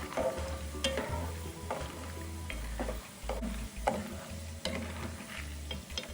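Peanuts deep-frying in oil that started cold, crackling steadily while being stirred, with scraping and clicking stirs at intervals and a low hum beneath, close and at moderate level, no one speaking.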